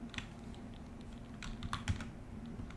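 A computer keyboard gives quick, irregular clicks of key presses as a Linux package install command is typed, soft but close, with brief pauses between the bursts.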